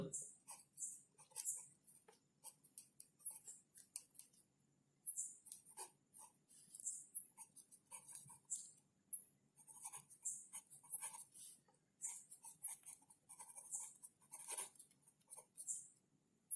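Chalk or marker strokes on a classroom board during an abstract algebra lecture, coming in short scratchy bursts and taps with pauses between them, fairly faint, with a quiet voice speaking intermittently.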